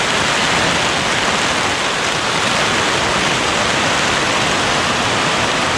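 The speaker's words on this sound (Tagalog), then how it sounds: "hindi na yata titigil yung ulan" A loud, unbroken downpour hisses steadily, thick rain close by drowning out everything else, at a house construction site during a storm.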